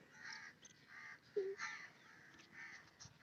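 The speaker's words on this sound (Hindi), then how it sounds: "ये कौवे भी आ गए हैं ऊपर।" Several crows caw from somewhere overhead in an outdoor spot, short harsh calls coming in scattered bursts at a moderate distance, fairly faint over a low background hum.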